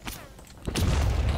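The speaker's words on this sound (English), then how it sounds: "Oh shit, enemy mortar" Enemy mortar rounds explode in Call to Arms with heavy booming blasts and rumbling that build into a loud, sustained barrage of impacts in the second half.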